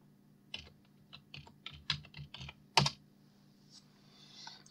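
Someone types on a computer keyboard in a quiet room: a burst of close, crisp key clicks at an uneven rhythm, one louder clack near the end, over a faint steady hum.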